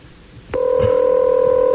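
A telephone line clicks and then a steady, loud tone comes in that sounds like dialing or a dial tone, continuing unbroken to the end with no voices over it.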